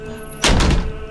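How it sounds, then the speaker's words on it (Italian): A door slams once with a sharp, loud thud after a quiet start, the impact ringing briefly before fading, no voices. "Ma non possono sbattere le porte!"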